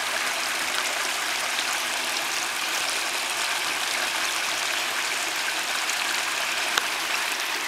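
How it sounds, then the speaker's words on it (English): Water cascading down a fish ladder used by salmon and trout, a steady broadband rush that stays even and fairly loud throughout with no talking. "you'll see the cascading water that flows."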